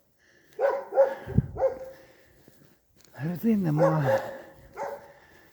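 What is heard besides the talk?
dog barking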